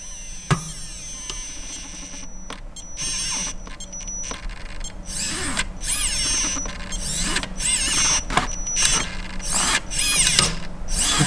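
An RC car's front winch motor whines and grinds as it winds in, in uneven bursts with squealing, ratcheting mechanical noise, fairly loud and close.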